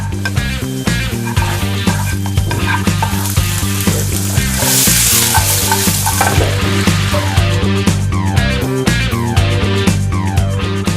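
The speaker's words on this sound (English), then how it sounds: "Today we'll be cooking veg pasta in white sauce." Veg pasta in white sauce sizzles and fries in a kitchen pan while being stirred, a loud continuous hiss with rhythmic scraping and clinking strokes throughout, with no talk.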